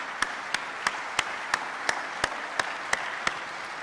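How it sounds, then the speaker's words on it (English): Applause for Senator Thune at a pheasant habitat summit panel, steady crowd clapping with one nearby pair of hands striking a regular beat about every third of a second. "Let's give him another round of applause."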